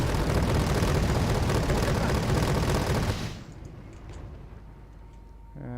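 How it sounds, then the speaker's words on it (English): Heavy artillery firing huge shells in the Wargame Red Dragon video game: a dense, loud roar of blasts and rumble that cuts off sharply after about three seconds, leaving a quieter tail. "So there's 2 lots of artillery here. We'll get some rounds out on both."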